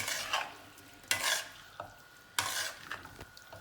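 A spatula stirs a chicken filling with spring onions in a sizzling pan, making a few scraping sweeps with light clinks over a soft, close frying hiss, no talking.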